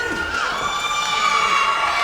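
A wrestling arena crowd cheers loudly and continuously, a dense roar of shouts and whoops filling the space.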